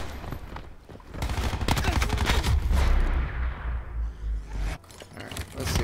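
Sustained MX9 assault rifle fire in a first-person shooter video game, a dense burst of rapid shots lasting a few seconds before tapering into scattered bangs and quieter game sounds.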